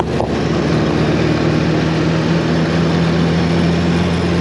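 Engine running steadily at low RPM while driving a dynamo, a continuous loud low-pitched hum with a constant drone throughout and no voices.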